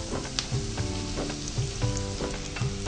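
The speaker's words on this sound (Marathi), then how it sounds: "आता हे चांगल्यापैकी परतले गेले आहे" Vegetables for Indian noodles sizzle steadily as they are sautéed in a hot pan, with a constant close frying hiss and soft periodic stirring scrapes, no voices.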